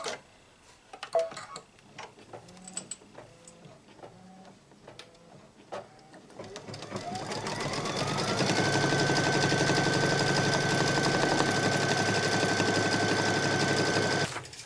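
An embroidery machine stitches the quilting in the middle of a white Kimberbell Cozy Wall Hanging with white thread. Soft scattered clicks and taps give way after about six seconds to a loud, steady, rapid mechanical whir that runs to the end.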